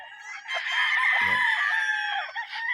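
Chickens cluck and a rooster crows loudly and close by, with a brief low thump partway through.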